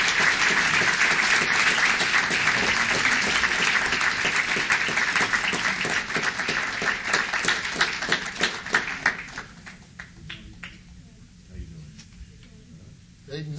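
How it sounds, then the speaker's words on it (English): An audience at a city council meeting applauds, a dense burst of clapping that thins to scattered individual claps and fades out. "Now you can applaud."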